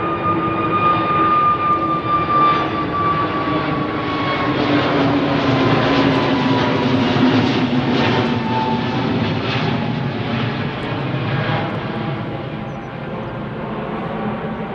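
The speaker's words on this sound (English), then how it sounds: "Is this TAP 321 Neo? I think it is." A TAP Air Portugal Airbus A321neo departs Heathrow runway 09R, its jet engines giving a loud, steady roar with whining tones that slowly fade as the aircraft climbs away, without any voices.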